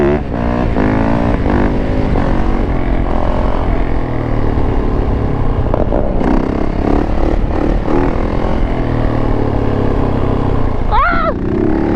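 A Honda dirt bike engine runs steadily in fourth gear during a long ride, a loud continuous drone with shifting harmonics throughout and a brief rising rev near the end.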